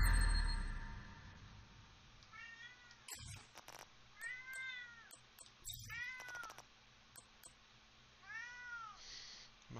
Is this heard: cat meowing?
yes